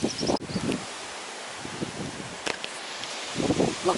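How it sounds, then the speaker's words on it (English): Blustery early autumn wind gusts outdoors, rushing and rustling in bursts with low rumbling buffets, loudest at the start and again near the end. "It's a blustery early autumn day."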